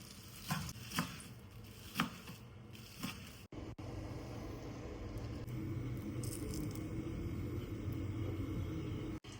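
A few sharp knife chops on a board, cutting food into shreds, then a steady low rumbling hiss takes over; no one speaks.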